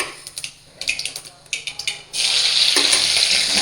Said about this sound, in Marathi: तर आपण टाकूया त्याच्यात पहिले मिरची, बारीक चिरलेली मिरची